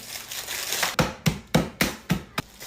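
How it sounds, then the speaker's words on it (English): Tim Tam biscuits being smashed up, with a run of five sharp crunching thumps about a quarter-second apart after a stretch of softer crinkling and rustling, close and fairly loud. "You want to start by smashing up your biscuit"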